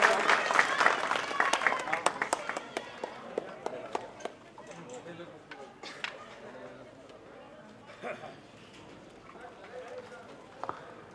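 Applause welcomes an honoree at a tehsil-level community talent award ceremony, a burst of loud, fast clapping at the start that thins into scattered claps amid murmuring voices.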